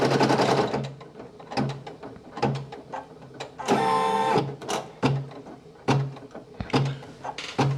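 A Brother PE800 embroidery machine stitches a patch with a steady mechanical whir broken by repeated sharp clacks and ratcheting thumps, including a brief buzzing burst midway, close and loud with no talking.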